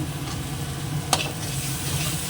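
Spice paste (masala) with onion sizzling and frying in a pan, stirred steadily: a continuous dense hiss close up, with one brief sharp scrape partway through.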